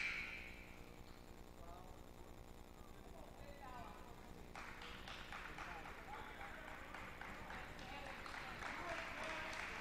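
A crowd at a college basketball game gives a player an ovation, a swell of clapping and cheering rising in the gym and continuing under an announcer's commentary.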